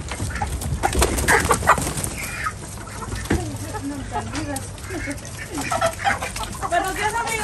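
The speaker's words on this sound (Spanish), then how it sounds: "Y abrirle a las gallinas." Chickens and ducks on a small ranch cluck and quack steadily as their cages are opened in the morning, close and fairly loud, with some human voice mixed in.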